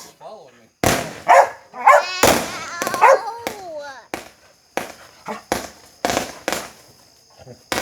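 Backyard consumer fireworks going off outdoors as a series of sharp, loud cracks and pops in an irregular rhythm, mixed with dogs yipping and barking nearby while people talk and shout over the noise.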